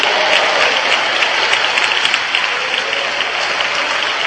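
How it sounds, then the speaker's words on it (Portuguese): Church congregation clapping hands together in worship, a dense, loud, sustained wash of applause that fills the whole stretch without letting up. "batam palmas e glorifiquem ao Senhor."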